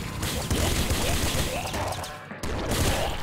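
Flame cannon fired in the video game Nuclear Throne: dense, rapid bursts of gunfire-like blasts and mechanical clatter, loud and nearly continuous with a brief dip near the end.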